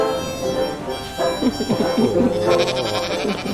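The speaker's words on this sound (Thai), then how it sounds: "มีแกะด้วยก็สวนพึ่งเขามีแกะเยอะไง" Sheep bleating on a farm in Suan Phueng, Thailand, several wavering calls overlapping in a busy stretch of a few seconds, fairly close, with background noise and no clear talk.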